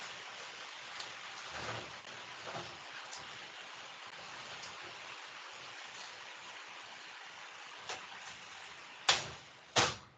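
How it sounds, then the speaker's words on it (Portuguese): Steady rain falls outdoors as a constant broadband hiss, with a few louder drips or gusts near the end; no one speaks. "tá chovendo aqui, peraí."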